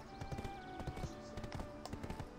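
Horse hooves in the video game Black Desert, a quick rhythmic clip-clop of steady trotting steps, clear and fairly close throughout.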